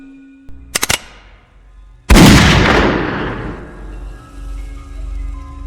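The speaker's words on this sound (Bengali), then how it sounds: "বন্দুকের পিনটা খট করে পিছিয়ে গেল। তারপর শেষবারের মতো গর্জে উঠল সেটা।" A single loud gunshot effect in a Bengali suspense audio drama, preceded by a sharp mechanical click of the gun's pin, with the blast decaying into a long rumbling echo.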